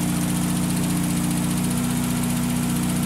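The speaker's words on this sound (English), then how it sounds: "Idle is high, of course, because it has a choke and a carburetor." A 1957 Porsche 356A Speedster barn find with a carbureted engine on choke idles high right after a cold start, a steady, loud, close mechanical drone with even pulsing and no voices.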